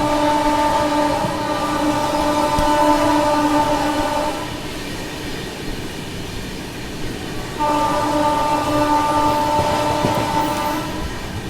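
The Secunderabad Rajdhani Express runs past Dholpur station in Rajasthan, sounding two long, loud horn blasts separated by a short gap over a continuous rolling rumble of wheels on track.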